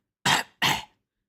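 A person coughs twice, loud and close, with two sharp bursts about a third of a second apart followed by silence.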